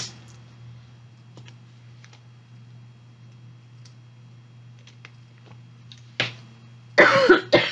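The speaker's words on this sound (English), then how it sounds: "Let me clear my throat." Faint ticking and clicking in a quiet room, then a harsh throat clearing near the end, in two rough bursts close to the mic.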